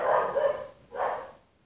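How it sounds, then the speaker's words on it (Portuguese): A dog barks twice, two short, close barks with a brief gap between them, fading out quickly at the end. "olha o cachorro latindo"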